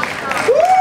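Audience applause for a band at a band contest in Ventimiglia: a dense, steady wash of clapping and crowd noise with a thin whistling tone rising near the end.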